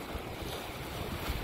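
Continuous rumble of sea waves and gusting wind aboard a boat at sea off Iceland, a steady broadband wash with low thumps, no speech.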